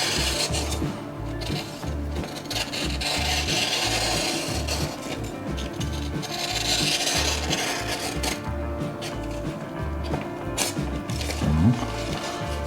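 A mini belt grinder sharpening kitchen knives gives a continuous abrasive rasp and rub, steady and fairly loud throughout with a low motor hum beneath and a brief scrape near the end.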